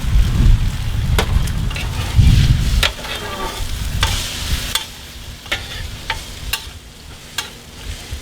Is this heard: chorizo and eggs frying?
yes